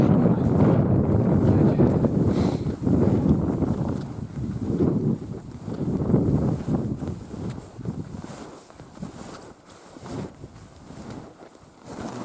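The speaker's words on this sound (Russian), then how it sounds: "А, блин, ветер такой." Wind with light snow in the Siberian taiga gusts hard against the microphone, a loud rumbling buffet that surges and eases in waves before dropping off toward the end.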